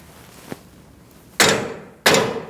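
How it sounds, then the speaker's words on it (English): A faint tap, then two sharp metallic hammer strikes on a front outer tie rod of a 2008-2014 Mercedes-Benz C300, about half a second apart, each ringing briefly before fading. "I'm going to give it a whack with a hammer, and hopefully it'll come out."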